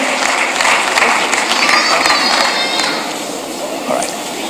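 A crowd at a school children's awards ceremony applauds an honoured guest, a broad dense wash of clapping that gradually thins, with faint voices mixed in.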